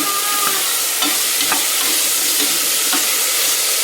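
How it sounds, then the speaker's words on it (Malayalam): Onions sauté in a pressure cooker for egg biryani with a loud, dense sizzle. Regular spatula scrapes and knocks land about every half second. "ഇത് നന്നായിട്ടൊന്ന് വഴന്ന് വരണം"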